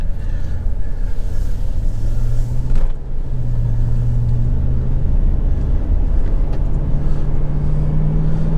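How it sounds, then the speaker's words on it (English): A Chevrolet Silverado pickup with stock exhaust drives along a curvy road, its engine a steady low rumble with a gently rising drone under constant road and wind noise, heard from inside the cab. "this truck has a stock exhaust on it"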